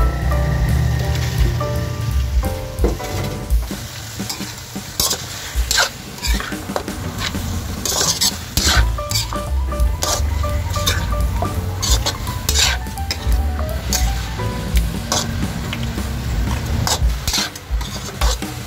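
Pork ribs go into a pan of sizzling tomatoes, with a steady loud frying hiss and scattered clatter of ribs and a utensil against the pan, continuous throughout with no talk.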